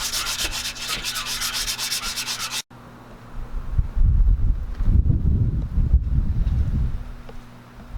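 A car body is sanded by hand with repeated coarse rubbing strokes, close and fairly loud, following a brief steadier whooshing stretch; nobody speaks.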